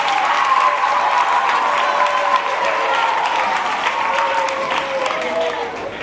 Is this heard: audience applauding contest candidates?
yes